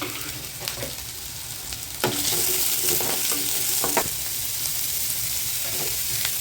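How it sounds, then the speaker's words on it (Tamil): Onions frying in a little oil, steady oily sizzling that grows louder partway through, with scattered crackles and a few stirring scrapes close by. "வெங்காயம் வதங்குற அளவுக்கு கொஞ்சமாக எண்ணெய் ஊற்றிங்க வெங்காயம் போட்டலாம்"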